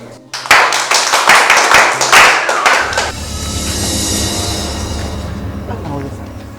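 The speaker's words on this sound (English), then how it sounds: "Clap for friends." People clapping in a school scene from a Ghanaian student drama film, a burst of sharp, close, irregular claps and thumps for about three seconds, then a lower rumbling background with faint voices.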